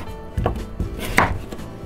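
A knife chops cucumber into small pieces on a cutting board, giving a few sharp, close thuds at an uneven pace, with no one talking.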